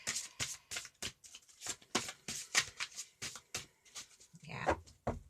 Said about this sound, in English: they feel nice and comfy in the hands when you're shuffling